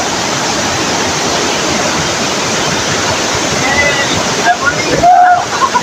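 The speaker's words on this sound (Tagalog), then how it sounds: "update ko yung tubig natin dito" Water flowing inside Calinawan Cave, a steady broadband rush like a small waterfall, with a few louder splashes and sloshes near the end.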